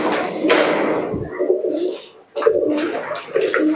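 Giribaz pigeons at a market sale coo in low, throaty rolling calls close by, broken by a short pause and then resuming in repeated bursts.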